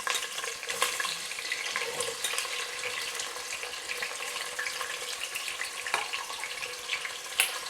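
Sliced onions fry in hot oil and ghee for a Marathi-style mutton biryani, giving a steady close sizzle scattered with sharp crackles and pops.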